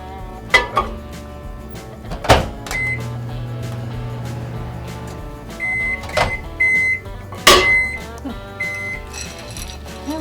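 A kitchen microwave melting chocolate in short bursts gives a low, steady hum for a couple of seconds, amid electronic beeps and sharp clinks of a bowl and spoon.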